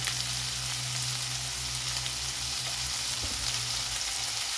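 Onion hissing and crackling in hot oil in a pan, a constant close sizzle with a brief stirring scrape near the end, no voices.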